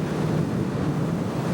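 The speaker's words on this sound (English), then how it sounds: "We are in view of the ocean." Pacific Ocean surf breaking on the shore in Washington, a steady low roar of waves mixed with wind buffeting the microphone, continuous and fairly loud with no talk.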